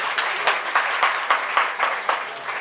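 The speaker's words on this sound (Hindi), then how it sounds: "तालियां कम नहीं होनी चाहिए।" An audience applauds a soldier's widow at a military tribute event, dense clapping with rhythmic swells, loud and close, no voices.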